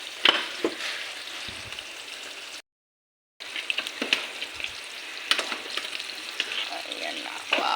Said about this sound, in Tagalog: So ilagay ko na tong gata dito sa gulay na munggo.